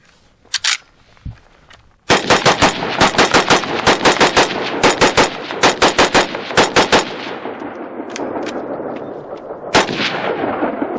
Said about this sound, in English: I can't come all the way out here without shooting my Mini 14.